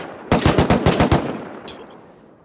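Rapid automatic gunfire in a multiplayer shooter video game raid: a close, loud burst of about eight shots, followed by a fading echo.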